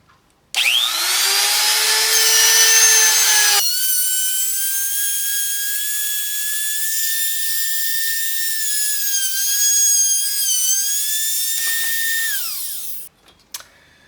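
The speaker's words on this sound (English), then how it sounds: "The laminate trimmer that I'm going to be using isn't real powerful, so I have to do really shallow passes with this bit." A low-powered laminate trimmer routes shallow passes in wood while carving a guitar body: a high, steady motor whine that rises as it spins up, holds a sustained cutting tone with slight pitch dips, then winds down, loud and close.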